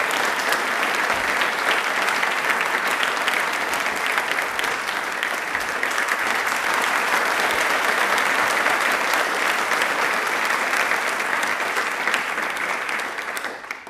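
Sustained, loud studio audience applause fills the room for about fourteen seconds at a steady level, recorded at a televised Indian Railways quiz programme.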